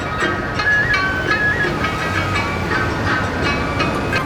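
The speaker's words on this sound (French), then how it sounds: "on est reparti pour du métro parce que là, on a 40 minutes à peu près de métro" Steady rumble and rattling hiss inside a moving Japanese metro train, with faint clicks and a few brief squeals over continuous track noise, no voices.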